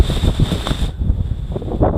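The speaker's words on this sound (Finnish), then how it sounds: "Aika kova tuuli." Heavy wind on Mount Kinabalu buffets the microphone in rough, gusty bursts, loud and close, with a faint tone that cuts out midway.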